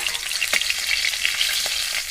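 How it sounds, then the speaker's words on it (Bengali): Hilsa fish frying lightly in hot oil: a steady, close crackling sizzle with a few sharper pops scattered through it, and no voices. "ইলিশ মাছ একটু হালকা ভাজলেই ভালো লাগে, তাই একটু হালকা করে ভেজেছি।"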